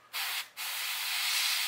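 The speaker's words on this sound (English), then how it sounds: "Just along the edge, let the overspray do the work." An airbrush sprays paint onto a fishing lure during a repaint, two close, hissing bursts: a short puff, a brief pause, then a longer, sustained spray.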